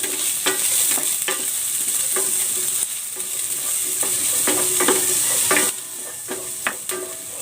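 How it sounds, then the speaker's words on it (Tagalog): Garlic and onion sauté in a pan for a pork dish, a loud close sizzle running steadily with scattered utensil scrapes and taps from stirring, dropping somewhat quieter toward the end; no one speaks. "Igigisa ko na tong bawang. At ang sibuyas."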